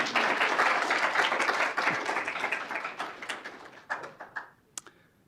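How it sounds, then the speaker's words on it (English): Audience applause after thanks at an institute research conference, a dense steady clapping that thins into a few scattered claps and stops near the end. "Yes, an applause for them too"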